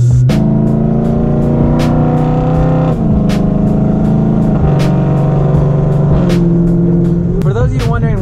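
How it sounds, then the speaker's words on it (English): A straight-piped BMW E92 M3 with no muffler or catalytic converters revs loudly and close up, its engine note climbing and dropping in several sustained pulls with sharp shifts between them, and a voice talks over it. "For those of you wondering what exhaust setup I have, it's full straight pipe, no muffler, no cats, nothing."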